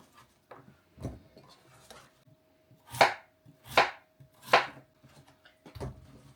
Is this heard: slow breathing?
no